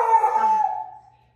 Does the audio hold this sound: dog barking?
yes